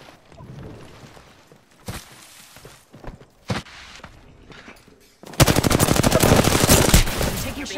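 Gunfire in the Apex Legends video game: a few scattered single shots and footsteps, then a loud, sustained rapid-fire automatic burst lasting several seconds, close and dominant.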